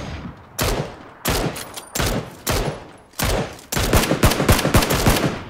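Bursts of gunfire in Battlegrounds, loud and close: several separate volleys of shots, then a sustained rapid burst of automatic fire at the end.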